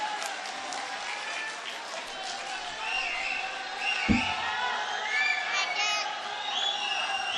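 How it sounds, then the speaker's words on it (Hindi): A crowd at a mushaira in Chandur Bazar, Amravati, applauds to welcome a poet. The clapping is a sustained, moderately loud wash with a single sharp thump midway, and a host's voice and crowd murmur sit on top. "जोरदार तालियां बजाए आप लोग"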